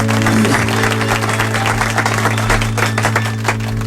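A studio audience applauds a singer after her performance of a song on the radio show Versió RAC1, brisk clapping that starts with a burst and stays loud and close, over a steady background hum.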